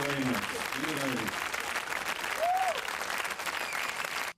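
A live concert audience claps in a dense, sustained wash of applause, and a voice speaks briefly over the start.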